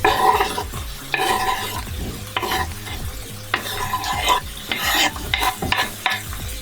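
Onions and carrots fry in a pan while being stirred for traditional Lithuanian herring, with steady sizzling broken by repeated scraping, clattering stirs of a utensil against the pan, close and fairly loud, with no talking.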